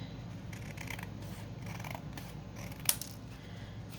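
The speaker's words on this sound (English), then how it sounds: "I'm going to have to trim it down a little bit, even it out." Scissors snip at a paper flip-out journaling pocket, trimming its edge with faint, soft cuts and a sharper click near the end, no voices present.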